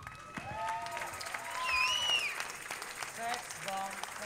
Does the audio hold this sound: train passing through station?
no